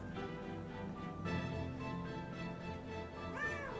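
A pet cat meows once near the end, a brief rising call over a steady bed of game music.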